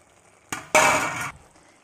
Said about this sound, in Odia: ମୁଁ ଶାଗକୁ ପକାଇ ଦେଉଛି